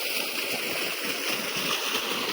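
Water rushes steadily through a field irrigation chamber in a crop field, a continuous close, dense gushing wash with no pauses over the short span.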